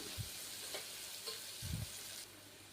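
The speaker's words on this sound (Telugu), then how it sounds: "కట్ చేసి పెట్టుకున్న ఉల్లిపాయ, పచ్చిమిర్చి, క్యారెట్ వేసుకుని 1 నిమిషం పాటు వేయించుకోవాలండి" Steady broadband sizzle of onion, green chilli and carrot frying in a pan, with a few low clunks of stirring and no voices.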